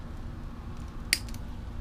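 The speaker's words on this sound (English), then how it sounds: "cut off any excess zip ties" A single sharp snip of cutters trimming excess zip ties on a 150cc/50cc scooter, one short close click over a quiet background hum.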